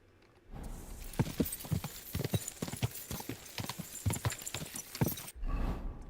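Horse hooves galloping in Kingdom Come Deliverance 2, a fast, rhythmic run of clip-clop beats that starts abruptly and keeps a steady pace for about five seconds before cutting off, close and clear with no talk.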